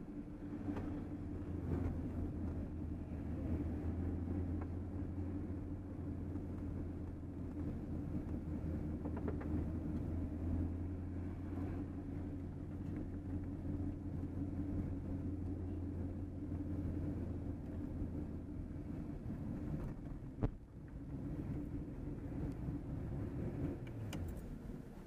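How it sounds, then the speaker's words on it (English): A fast car lapping the Blackhawk Farms race track, heard as a steady low engine drone and rumble from inside the cabin, fairly quiet and continuous with one brief sharp knock near the end. "This car is really insanely quick."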